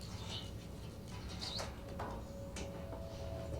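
A bird calls in a TV drama scene with a few short, faint chirps and squeaks spread over a low, steady background hum.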